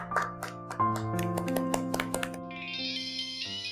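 A mobile phone ringtone starts partway through, a bright electronic tune that rises over a quieter musical bed with a few light taps before it.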